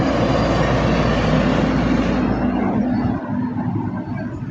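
Airplane engine roaring loud and steady nearby, a broad sustained drone that eases slightly toward the end.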